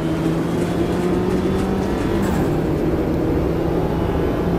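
A race car engine holds a steady, droning high-rev note during a VR racing game, loud and continuous with a faint rising shift, and no talk.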